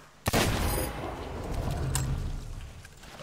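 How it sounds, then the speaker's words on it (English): A single sharp gunshot fired in a video game, loud and close, followed by a decaying rumble and faint background ambience. "Why'd you shoot?"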